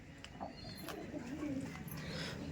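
A Laldom pigeon coos softly in a short low rolling call, close by, with a voice and faint background activity around it.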